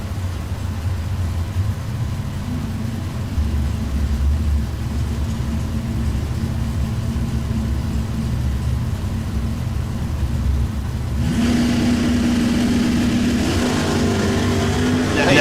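A 1969 Camaro and a 1966 El Camino launch side by side at a bracket drag race, engines roaring loud and steady before a sharp surge as the cars pull hard off the starting line.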